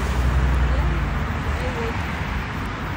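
Highway traffic gives a loud, continuous roar of passing vehicles, close and steady throughout with a heavy low rumble, while a voice talks over it.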